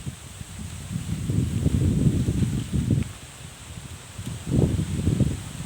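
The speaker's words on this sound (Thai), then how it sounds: "ลมเลยนะครับ ลมมาแรงเลยนะครับ" Strong wind gusts rustle through leaves with a dense, breathy hiss that swells, eases and surges again, close to the microphone and with no talking.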